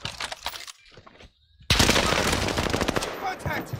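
Heavy automatic gunfire erupts in a Warzone match, a dense, sustained rattle after a short lull with a few scattered shots before it, loud and close.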